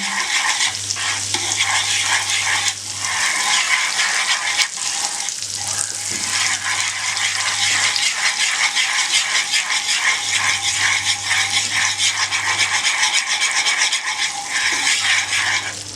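Butterscotch sauce bubbling in a pan over a slow flame, giving a steady close sizzle and frying hiss with occasional stirring scrapes and a low hum, continuous for the whole stretch without talk.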